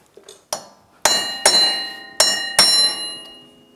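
Staking the CV axle nut on a Yamaha YXZ1000R brings five sharp, ringing metallic strikes up close, spaced unevenly with short pauses and a faint tap or two before them.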